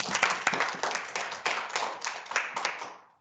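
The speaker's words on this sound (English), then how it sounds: "So well done, Bella. Give her a round of applause now" Applause from a school assembly audience: a dense round of clapping with sharp individual claps, steady throughout and fading out at the end.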